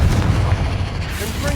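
The Confringo blast spell from Hogwarts Legacy goes off as a heavy, rumbling boom with a low, dense roar that rolls on through the short moment, loud and close.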